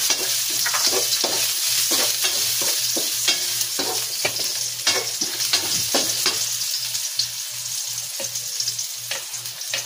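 Chopped ginger sizzles in a hot pan for chicken tinola, a steady crackling hiss broken by repeated scraping stirs of a utensil.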